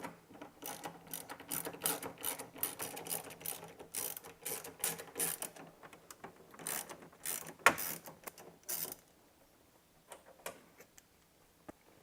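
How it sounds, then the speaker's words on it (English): A hand ratchet clicks rapidly in close bursts while removing four 10mm bolts from a Miata shifter boot, the rhythmic pawl ticking running for about nine seconds before fading into a few sparse clicks. "So the next process to remove your upper boot is to remove these 4 10mm bolts."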